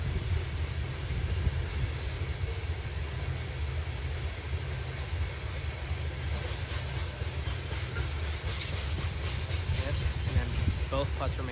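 A train rolls past a golf course at Chambers Bay, a steady low rumble of wheels and cars with faint clicking and squeals, heard under a commentator's speech.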